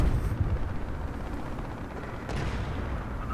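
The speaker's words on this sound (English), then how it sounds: "Alright, we got a bombing run." Bombing run explosions in War Thunder, with an American M55 self-propelled howitzer in the battle: a dense, continuous low rumble of distant blasts, strongest at the start and swelling again near the end, with no talk.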